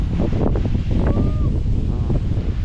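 Strong gusty wind buffets the microphone outdoors ahead of an approaching typhoon, a steady loud rumble with a brief faint whistle-like tone in the middle.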